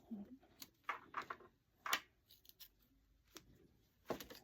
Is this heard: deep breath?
no